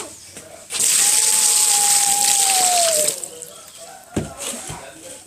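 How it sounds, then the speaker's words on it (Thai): Water gushes loudly for about two seconds like a small waterfall during Barbie toy water play, with a thin gliding whistle over it before it cuts off and gives way to quieter splashing and handling sounds. "น้ำตกมาอีกแล้ว"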